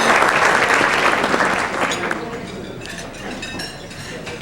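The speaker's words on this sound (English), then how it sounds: "So if everybody could please give Mary Beth Pfeiffer a round of applause." An audience at a talk breaks into loud, sustained applause for a guest speaker, the clapping dense at first and then thinning and fading over a few seconds, with no one speaking.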